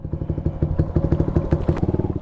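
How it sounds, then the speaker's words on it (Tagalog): A motorcycle engine sputters and catches on a cold start, idling with a rapid, uneven putter that stays close and fairly loud throughout. "cold start ng ating motor"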